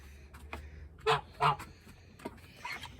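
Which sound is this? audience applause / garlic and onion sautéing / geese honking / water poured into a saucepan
geese honking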